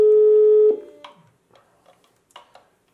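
A loud steady telephone call tone from a retro TV-style Bluetooth speaker sounds briefly and then stops, followed by a few faint clicks and soft handling noises.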